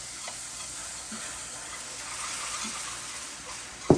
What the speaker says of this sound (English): So I now have 2 cups of milk, and I am just going to stream it in.